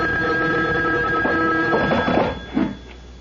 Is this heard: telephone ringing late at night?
yes